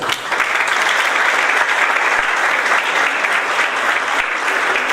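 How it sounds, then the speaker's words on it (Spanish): Loud, dense applause from an audience at a commercial oral trial law workshop, continuous and even throughout with no speech over it. "Aplausos, por favor."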